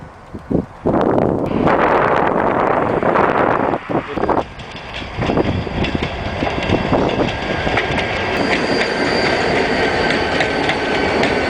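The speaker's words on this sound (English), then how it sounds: "You're looking at a specialized plow mounted on an old Vanderbilt tender." A train pushes a specialized snow plow mounted on an old Vanderbilt tender ballasted with concrete, a loud rumbling roar with rattling clatter and gusty noise, close and continuous.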